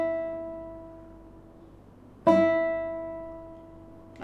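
Two nylon-string guitar notes plucked with the smooth, shaped side of a fingernail, each ringing out with a clear harmonic tone and slow decay, the second struck about halfway through, with a faint third pluck at the end.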